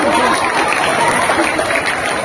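Audience applause at a comedy stage show at the Ghatikia Raja Mahotsava, a loud, dense wash of clapping from a crowd that holds steady through the short stretch.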